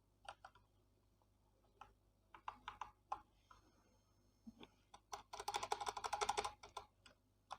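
Computer keyboard keys tapped in short irregular bursts, building to a quick rapid flurry near the end, close and fairly quiet in a still room.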